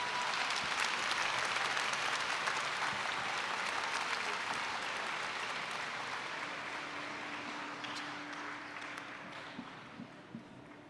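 An audience applauds after a lecture on the challenges of AI for teachers. The clapping is steady and full at first, then slowly thins and fades, with a faint tone sounding underneath late on.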